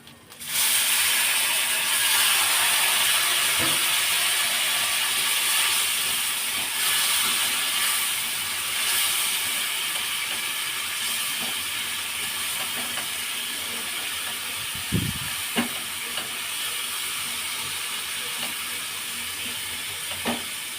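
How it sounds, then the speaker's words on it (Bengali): Water poured into frying spices in a pan while cooking a Bengali bottle gourd and prawn dish, setting off a loud sustained sizzle and hissing steam that fades slowly, with a few clinks toward the end. "আর একটু জল দিয়ে দিলাম"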